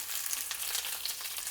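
Garlic, onion, ginger and halved tomatoes sautéing in hot oil in a kadai over low flame, giving a steady, close sizzle with crackly bursts and no voices.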